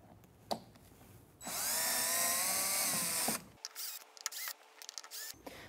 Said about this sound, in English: We are going to remove these four screws here with your drill, and I've got a Phillips head here.